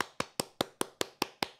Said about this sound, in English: This one's clap.